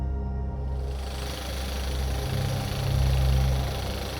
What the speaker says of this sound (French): Des motopompes vrombissent jour et nuit, pompant sans relâche une eau qui ne se renouvelle plus